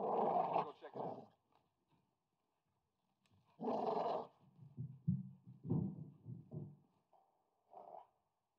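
A caged dog in the video game Call of Duty Modern Warfare gives low, rough growls in several short bursts separated by silences, fairly close and fairly loud.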